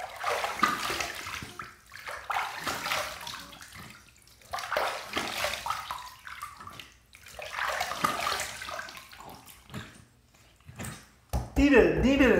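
Water splashed onto the face to rinse off after a wet shave, heard as several bursts of close splashing and dripping separated by brief pauses.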